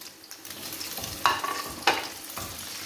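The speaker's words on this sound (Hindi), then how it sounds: "हमने जो अंडे फेंट के रखे थे ना वो डाल देंगे।" Beaten eggs poured into hot oil sizzle and spit steadily, with two sharp bursts of crackling as the mix hits the pan and is stirred, close and fairly loud, no talking.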